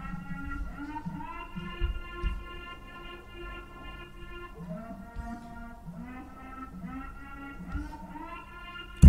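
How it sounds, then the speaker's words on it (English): A synth-like melody is played on the Addictive Keys piano plugin for a grime-style beat hook, smooth sustained tones gliding in slow phrases over a low pulsing bass, played alone. "I used this piano plugin called Addictive Keys"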